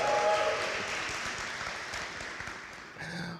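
Audience applause at a college spring convocation: a sustained wash of clapping from a large crowd that fades slightly, then swells again near the end, heard alone without talk.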